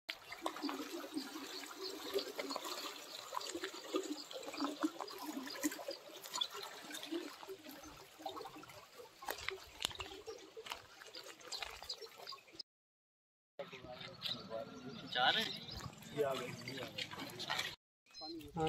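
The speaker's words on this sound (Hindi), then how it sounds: "वहाँ पानी है बहुत तेज" Fast-flowing water rushes through a canal near Semri with a steady broadband hiss and trickle, heard close by under people talking, with a couple of brief dropouts near the end.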